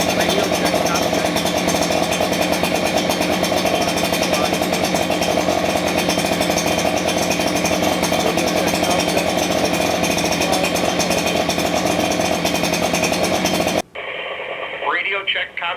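A steady, loud engine idle drones without a break for about fourteen seconds and then drops away, leaving quieter background noise and a brief voice.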